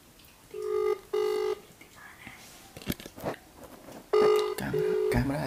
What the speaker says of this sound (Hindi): रिंग जा रही मित्रों